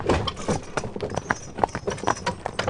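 A horse's hooves clip-clop in a brisk, uneven rhythm of repeated close hoof strikes, the footfalls sounding clearly with a little background noise and no talking.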